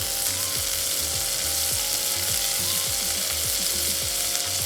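Fennel seeds sizzle and crackle in hot oil for a curry, a steady dense frying hiss with rapid popping, close and continuous throughout.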